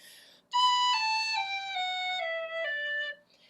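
A tin whistle plays a smooth slurred run of notes, each gliding into the next without breaks, stepping downward in pitch, clear and close with no talking.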